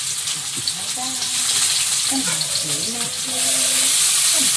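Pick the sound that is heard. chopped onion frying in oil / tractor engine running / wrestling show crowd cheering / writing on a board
chopped onion frying in oil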